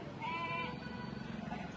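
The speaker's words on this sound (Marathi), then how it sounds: "हा आरच्या माग शेळी चालली." A goat bleats once, a wavering nasal cry over outdoor rustle and background murmur, with people talking faintly nearby.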